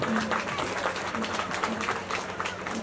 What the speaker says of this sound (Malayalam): അപ്പൊ എല്ലാവരും ഒന്ന് കൈയടിച്ച് പ്രോത്സാഹിപ്പിക്കുക.